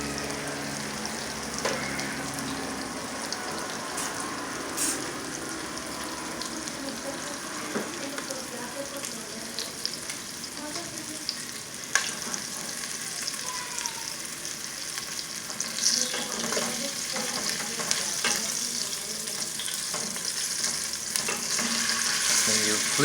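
Food fries steadily in olive oil in a pan, a continuous close sizzle with crackling pops and occasional stirring or flipping scrapes, nothing else over it.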